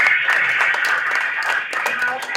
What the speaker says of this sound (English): Please, let's give Mayan another round of applause.